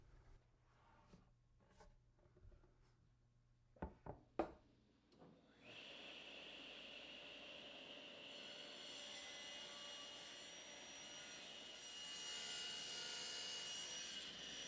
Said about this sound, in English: with our blade set at 18 degrees and our fence set at 12 3/16, we'll go ahead and make our cuts